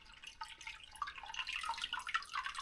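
Water running over a homemade Miller table used for gold panning, heard as close, irregular drips and splashy trickling that grow busier over a few seconds.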